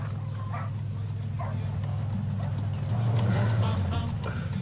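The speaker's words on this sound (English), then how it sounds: "I guess don't eat the dog." A dog whimpers and yips in Far Cry 6, short soft cries repeating over a steady low engine-like hum, fairly faint beneath the game's background din.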